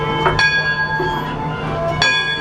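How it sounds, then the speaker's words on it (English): The bell aboard Disneyland's Mark Twain riverboat rings, several clear metallic strikes spread across the moment over a steady background hum, with a faint voice nearby. "And ring the bell 4 times."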